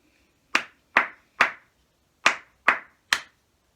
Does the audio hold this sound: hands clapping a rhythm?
yes